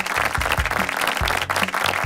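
A television reality show audience applauds in a dense, lively burst of clapping heard close and loud throughout.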